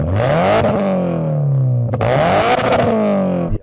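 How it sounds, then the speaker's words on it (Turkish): A supercharged Toyota GT86 revs hard through gears in a drag race, loud and close, its engine pitch climbing, dropping at a gear change, then climbing again before cutting off abruptly. "gt 86'ını dinleyelim Nick."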